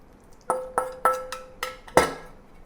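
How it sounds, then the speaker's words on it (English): Chicken pieces dropped into a bowl of starch for firecracker chicken, making five soft thuds with light clinks against the bowl, spaced about a quarter second apart and heard close and clear with no talk. "Now let's add the chicken to the starch."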